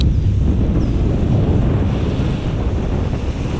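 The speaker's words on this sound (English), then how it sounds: "Windy today" Strong wind buffets the microphone in a constant low rumble, with lake water lapping and sloshing close by around a stand-up paddleboard.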